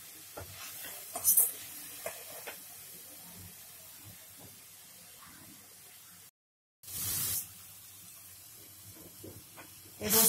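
Grated carrot for gajar ka halwa roasting in a pan, giving a soft, steady sizzle and hiss with faint scraping stir sounds and a few louder bursts, continuing near and low throughout.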